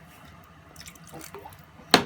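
Water is poured into a bowl for Nigerian meat pie dough, giving a few soft trickles and drips that build to a brief louder splash near the end, close and otherwise quiet.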